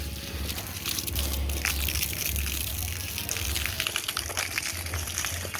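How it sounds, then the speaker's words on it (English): A gushing stream of water pours onto garden plants during morning watering, a steady splashing hiss with a low rumble running throughout. "Maybe I'll water some of our plants first."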